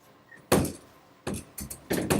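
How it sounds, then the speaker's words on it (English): A door being shut in a drawing classroom gives a sharp thump, then a few more knocks and bumps in quick succession, close by with no voices. "Let's shut the door here."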